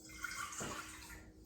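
Water poured into a bowl as the first liquid for a jalapeño cheese bread dough, a short steady splashing stream that swells briefly near the middle, close and alone.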